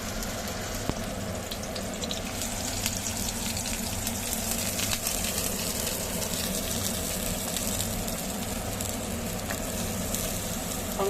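Onions sizzle and crackle steadily in hot oil in a kadai, a continuous bright frying hiss with no talking.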